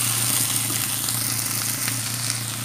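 Shallots, onion and slit green chillies sauté in a pan for mutton mappas, producing a strong, even sizzle that stays close and continuous with a light stirring texture underneath.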